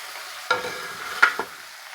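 Vegetable pieces fry in tempering oil while being stirred, giving a soft steady sizzle broken by two or three brief scraping stirs of a spoon against the pan.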